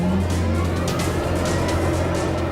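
A Black Hawk helicopter starting up gives off a loud, steady mechanical drone with a deep humming hum and a faint whine over the top, close by and constant.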